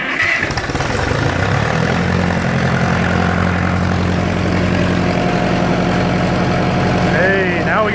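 A 1966 John Deere tractor engine, revived after 20 years, cranked and then running: loud, steady, close rumbling engine drone with a rough rhythmic pulse throughout, and a voice briefly heard near the end.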